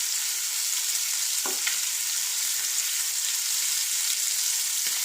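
Prawn biryani masala sautéing in a pan, a continuous close hiss of frying with a few sharp stirring clacks from a spoon against the pan.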